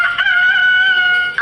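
A rooster crows once in a loud, clear, sustained cock-a-doodle-doo lasting over a second, standing alone with no other sounds around it.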